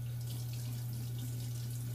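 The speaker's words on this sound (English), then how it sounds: "Give a rinse with hot water." A short, steady stream of water pours from a bathroom sink faucet for a hot rinse after a straight-razor shave, a close continuous splashing hiss with no voices.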